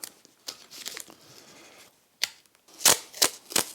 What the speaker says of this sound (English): So I'm going to use masking tape